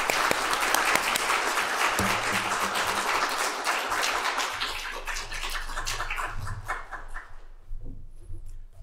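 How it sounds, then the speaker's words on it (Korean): Church congregation at a Sunday worship service applauding, a dense sustained wash of many hands clapping that slowly thins and fades out near the end. "박수 드리겠습니다."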